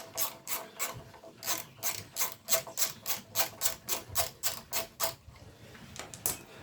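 Ratchet tool clicking steadily as it undoes the bottom pin of a sliding-type motorcycle brake caliper, a fast rhythmic series of about twenty sharp close clicks with a brief pause near the end.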